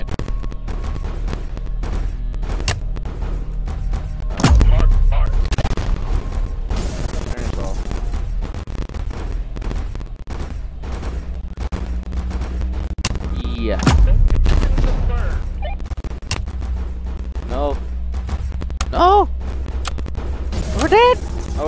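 Artillery fire in the video game Tower Defense X, heard as two heavy low booms about ten seconds apart over a constant rumbling game soundscape with scattered smaller shots, while a player talks throughout.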